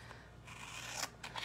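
Teflon-coated scissors slice through adhesive sheet in close, crisp snips, with a brief burst near the end of a short steady cut.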